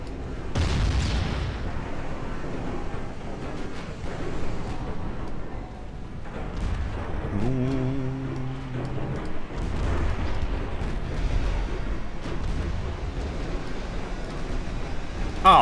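Heavy naval guns booming in a naval warfare game set in an Imperial Austrian campaign, a battleship firing salvos as repeated low blasts and rumbling explosions over a continuous battle din.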